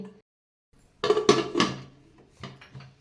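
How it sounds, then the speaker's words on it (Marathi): A few sharp metallic clanks and knocks of a pressure-cooker whistle being pulled off its lid, in short clattering bursts after a brief silence. "आता इथं मी झाकणाची शिट्टी काढली"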